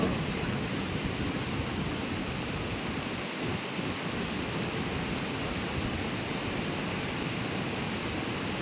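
A waterfall at Vellimalai roars in a dense, unbroken rush, steady and loud throughout with no voices.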